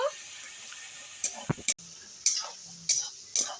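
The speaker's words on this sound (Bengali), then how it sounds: "কাজু বাদাম বাটার এই মশলার সঙ্গে আরেকটু মিশিয়ে নেব" Cashew and poppy-seed paste being stirred into a masala in a pan, with a few scraping strokes and soft sizzling over a low background hiss, broken by brief clatters near the middle.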